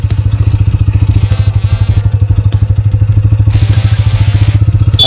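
A TVS Apache RTR 160 4V motorcycle rolls along in second gear at low speed, its engine giving a steady, loud, rapid thumping pulse close up, with a light rattle over it.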